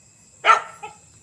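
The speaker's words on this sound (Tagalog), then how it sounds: "Nabol ng aso." A single sharp dog bark outdoors at night, fairly close, followed by a softer short yelp, against a quiet background.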